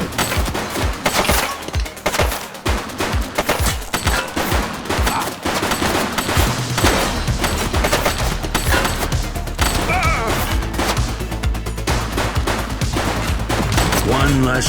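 Enemy gunfire in The Precinct, a police video game: dense, sustained bursts of rapid automatic shots crackling nonstop over a rumbling low background, loud and close throughout.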